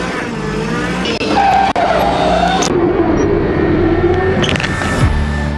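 Supercharged methanol-fuelled Daihatsu Midget racing on a track, its engine holding a loud, steady drone that rises and falls in pitch with shifts and tire squeal, continuous and close throughout.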